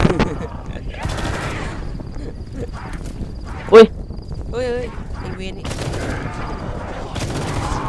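In a zombies video game, bursts of gunfire crack out over game effects, mixed with frequent speech from players talking throughout.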